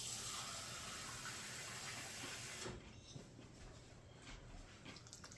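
Water poured into a mixing bowl for batter, a steady rushing hiss for a few seconds that cuts off abruptly, followed by quieter splashes and dribbles.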